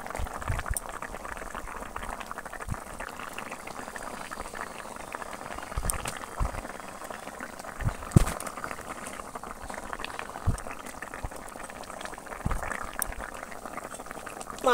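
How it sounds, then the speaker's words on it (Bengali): Fish curry broth bubbling at a rolling boil in a cooking pot, a continuous soft liquid burble with occasional louder pops and splutters, close and alone without talk. "ঝোলটা খুব ভালো করে একদম ফুটে গেছে।"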